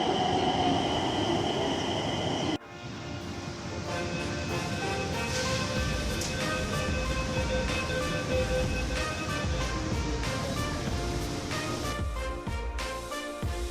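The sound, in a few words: Nagpur Metro train arriving at station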